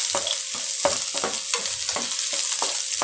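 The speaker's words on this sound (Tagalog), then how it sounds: "Sotet lang natin yung garlic." Garlic sizzles in hot oil in a pan while a utensil stirs and scrapes in a steady series of close, crisp strokes, with no talking.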